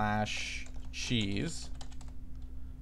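Keys clattering on a computer keyboard as a URL is typed, a quick run of close taps at the start and scattered clicks later, with someone speaking over part of it and a steady hum underneath.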